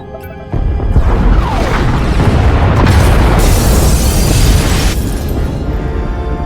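Pod bays blowing up in the Star Wars: The Old Republic game, a loud booming explosion that kicks in suddenly and rumbles on with crackling debris for several seconds.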